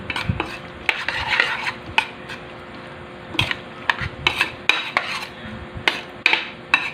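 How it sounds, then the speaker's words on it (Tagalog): Vinegar is stirred into a mango dinakdakan dish, with irregular clinks and scrapes of a utensil against a bowl, close and fairly loud, with no talk. "Naglagay tayo mga 2 kutsara. Saka natin haluin."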